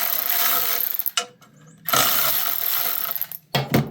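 Bolts are loosened on the shroud of a Woodmaxx flail mower, giving loud metallic ratcheting and rasping close to the microphone, broken by short pauses and a final brief burst of clicking.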